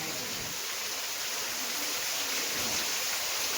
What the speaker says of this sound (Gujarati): આજ તો ઘણો વરસાદ પડે